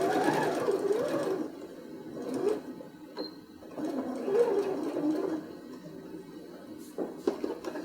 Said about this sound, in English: So we're just sewing along the lines. Back stitch at the ends.